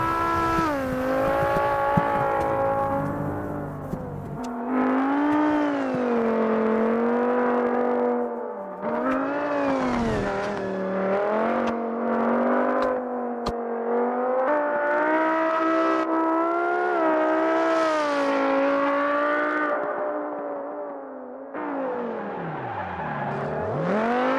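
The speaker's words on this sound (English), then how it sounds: "And I'll let you guys listen to this amazing car," A Formula 3 race car in the video game BeamGP runs a qualifying lap, its engine screaming high and steady, rising and dipping through gear changes and corners, loud and alone throughout.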